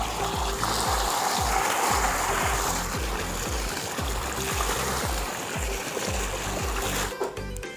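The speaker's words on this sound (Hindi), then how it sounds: "इधर मैं बोर चालू कर लिया पानी पीने" Water gushes and splashes steadily from a borewell pump outlet in a Chhattisgarh village, warm and steaming, loud and continuous, with a rhythmic mechanical thumping underneath.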